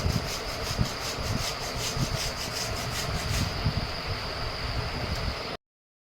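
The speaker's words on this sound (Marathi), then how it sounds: "समीक्षाने आता त्यात गुळ मिक्स केला आणि आता असं पीठ मळून घेतलं आहे" Dough mixed with black jaggery being kneaded by hand, a steady soft rubbing and squishing with close, continuous texture for about five seconds before cutting to silence.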